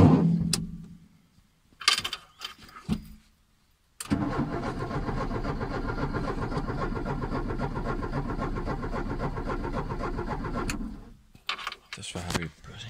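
A Ford Fiesta MK3 under restoration cranks over and fires, then runs with a steady close engine idle for several seconds before shutting off, with short bursts of talk around it.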